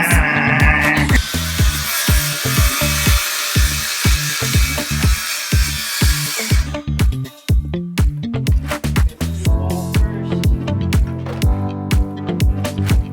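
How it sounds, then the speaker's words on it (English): A power tool cutting a pipe whines and buzzes loudly in rapid pulses, cutting in bursts with a harsh high hiss, then choppy rhythmic grinding continues close up. "Our pipe is too long. We need to shorten it with power tools."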